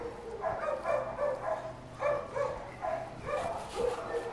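A dog gives a run of short barks and whimpering yips in repeated bursts, fairly close, with soft background noise.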